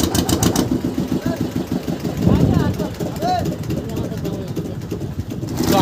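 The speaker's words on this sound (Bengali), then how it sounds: "তো আমাদের নৌকা ছেড়ে দিয়েছে এখান থেকে" A river boat's engine runs steadily as the boat pulls away from the shore in the Sundarbans, a loud continuous chugging with rain and people talking over it.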